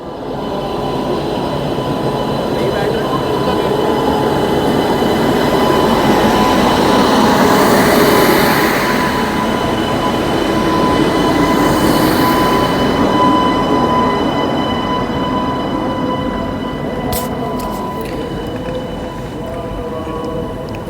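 Mandla Nagpur express special train departing Mandla railway station, a loud, continuous rumble of railcars and rolling wheels that swells and holds for many seconds, with faint squeals and clanks near the end.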